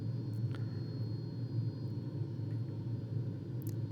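A Fouga jet aircraft in flight, heard from inside as a steady, low engine rumble and whine that stays constant throughout, with a few faint clicks above it and no speech.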